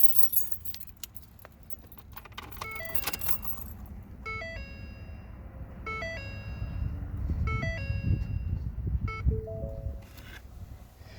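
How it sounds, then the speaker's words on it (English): Keys jangling and turning in the ignition of a Ford vehicle, a close metallic rattle followed by a run of electronic chime tones from the dash, with a low cabin rumble underneath. "we need to turn on the ignition first"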